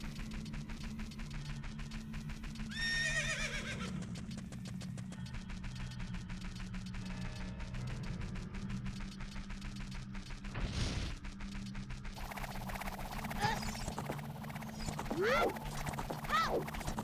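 Horse hooves clip-clopping in a Zelda video game, a steady rhythmic trot over game music with a brief whinny-like swell near the middle.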